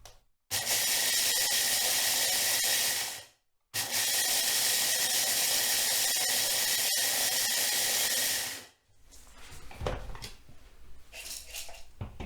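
A blender mixes creamed honey in two loud, steady whirring runs separated by a brief pause. After it stops, faint clinks and rustling follow.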